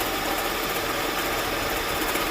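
A Honda Prelude engine runs with a misfire, a loud, steady, close mechanical drone with a rough, uneven undertone and no talking.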